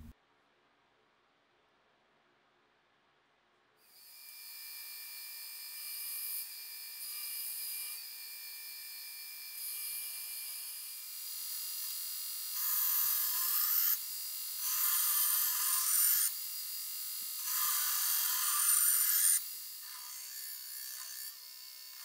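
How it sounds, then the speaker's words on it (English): Bevels are ground freehand on a bowie knife blade of cast C-630 nickel aluminum bronze. After a few seconds of silence, a steady, hissing grinder drone sets in and swells as the blade is pressed harder in repeated passes. "I will be grinding the bevels freehand"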